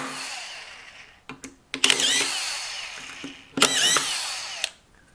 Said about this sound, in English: watch as I drive these screws